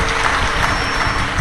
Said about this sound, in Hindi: एक बार जोरदार ताली बजाकर इनके लिए स्वागत।